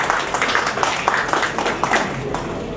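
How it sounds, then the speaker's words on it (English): Audience applause at a hospital robotics centre of excellence event, a moderately loud, continuous patter of clapping from a seated crowd, with faint murmuring underneath. "So a round of applause for Dr. Reddy, Dr. Adarsh."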